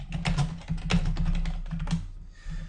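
Rapid clicking of keys on a computer keyboard, a close, uneven flurry of keystrokes that tapers off near the end, with no talking.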